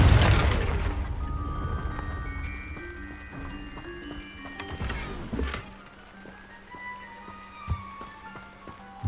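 A Confringo fire spell blast in Hogwarts Legacy erupts as a loud booming burst at the start, then rumbles and decays into scattered debris crackles and small pops over a low game ambience.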